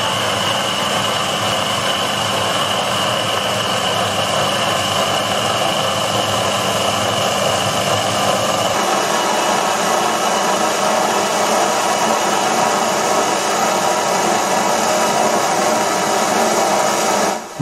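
A Proxxon PD 250/e mini lathe turning a shaft with a DCMT insert, a steady close motor whine with a continuous cutting hum that shifts slightly in tone midway, running without pause.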